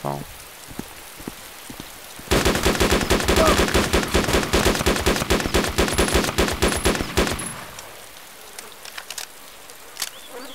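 Rapid, loud volleys of Lee Enfield rifle gunfire in a survival video game crackle as a dense burst of closely spaced shots for about five seconds, then stop, leaving faint ambient game noise.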